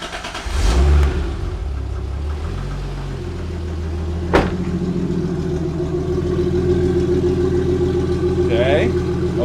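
A Toyota Supra engine in neutral starts and revs, a mid-pitched roar that settles into a steady idle with a sharp knock partway through, while someone speaks nearby.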